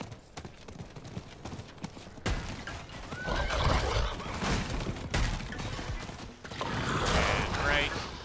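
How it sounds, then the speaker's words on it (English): A horse ridden in the game Diablo 4 gallops with rhythmic hoofbeats, lets out whinnies and snorts, and is heard up close with light game sound effects behind it. "we'll take our horse, and we'll go for a quick run here"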